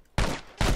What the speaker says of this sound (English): Wasted pretty much all of my ammo.